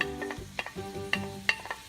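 Shrimp hit a hot pan in a quiet, close sizzle, broken by several sharp clicks and scrapes of stirring spread irregularly across the short moment.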